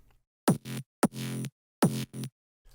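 Three bright synth notes, each opening with a sharp percussive click before a sustained buzzy tone, close and alone.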